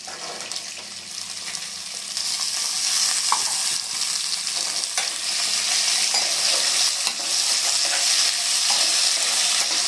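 Onions and lightly fried potatoes sizzle in hot oil in a pan, a continuous bright crackle that grows a little louder after the first couple of seconds, with faint stirring scrapes.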